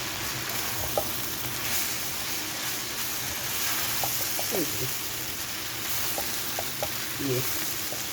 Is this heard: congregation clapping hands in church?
no